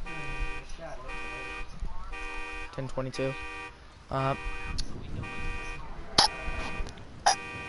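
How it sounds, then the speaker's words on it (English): A car alarm in a police role-play video game sounds as a steady pulsing electronic tone under a man's radio-style talk, with several sharp honk-like bursts cutting in near the end. "10-4, the alarms are even going off."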